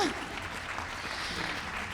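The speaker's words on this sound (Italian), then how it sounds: "quindi un applauso" Audience applause at a gala concert of the Friuli Venezia Giulia International Piano Competition, a steady dense wash of many hands clapping in a hall, even in level throughout.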